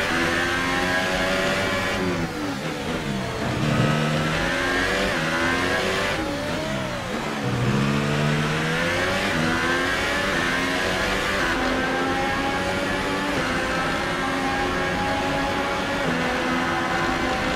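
A Formula 1 car engine screams and revs through gear changes during a race at Sochi Autodrom in F1 2018, loud and close, pitch climbing and dropping repeatedly over a sustained roar with occasional tire noise.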